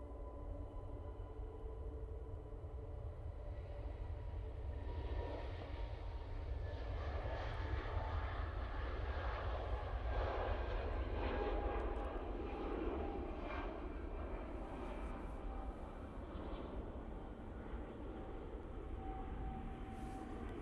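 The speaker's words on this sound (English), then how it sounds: "Scandinavian A320 Neo now on the roll." A Scandinavian Airbus A320neo takes off at Manchester Airport, its steady engine roar holding loud and continuous throughout with no voices over it.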